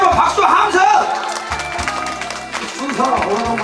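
A crowd claps and cheers at a live pumba performance during an outdoor lantern food festival in Gimcheon. The applause is loud and mixed with shouts, and a person talks and music plays alongside.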